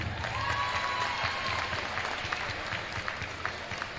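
Crowd applause for a cheerleading senior in a high school gym at a boys' varsity basketball game, steady clapping from many hands throughout with a faint background crowd murmur.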